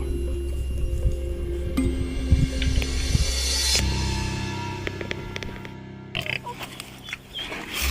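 Pigs feeding on water hyacinth, close-up grunts and squealing mixed with wet chewing and squishing, loud and continuous with brief shifts in tone.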